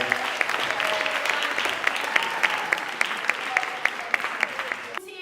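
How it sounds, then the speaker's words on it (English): An audience claps for a poet at a live food, art and entertainment salon event, with steady applause throughout and occasional sharper claps, and voices faintly underneath. "So ladies and gentlemen, clap it up for Emerald Green, ladies and gentlemen."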